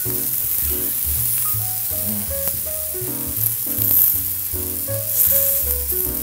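Eggs and sausage frying on a hot griddle give off a continuous loud sizzle, with background music playing over the cooking sound.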